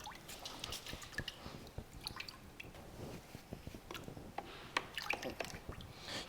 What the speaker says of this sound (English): you'd also take off this filter and give that a rinse as well